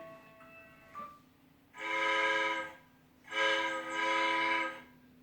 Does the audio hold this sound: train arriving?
yes